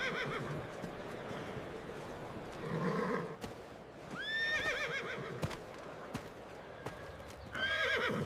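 Horses at an outdoor horse fair market whinny repeatedly in loud, wavering neighs, with hooves clip-clopping and market bustle underneath; the calls come in bursts a second or so apart.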